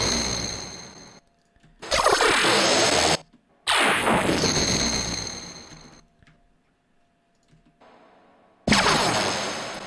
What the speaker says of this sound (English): I took a couple stabs with rounds, creating some spaceships